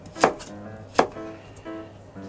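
A kitchen knife chops burdock root on a cutting board, with two sharp, close knocks about a second apart followed by softer cuts.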